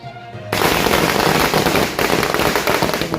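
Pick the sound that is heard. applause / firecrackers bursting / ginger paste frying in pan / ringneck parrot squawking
firecrackers bursting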